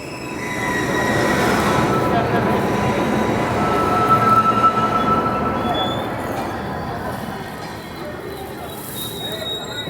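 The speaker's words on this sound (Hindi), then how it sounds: "ओहो, ये आ गई अरुणाई एक्सप्रेस" Arunai Express, the Silchar–Thiruvananthapuram train, pulls into a station with a loud, sustained rumble of rolling coaches and a thin wheel squeal, the sound easing off toward the end.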